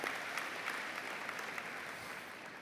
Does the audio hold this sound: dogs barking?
no